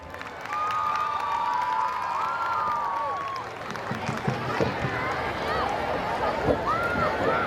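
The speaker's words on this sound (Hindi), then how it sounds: "जोरदार तालियां हो जाए हमारे मिश्रा सर के लिए।" Applause and cheering from an audience welcoming Mishra sir, the chief guest, onto the stage at a recognition ceremony, with steady clapping, crowd noise, whistles and voices over the whole stretch.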